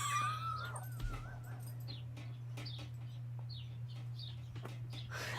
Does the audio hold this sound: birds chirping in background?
yes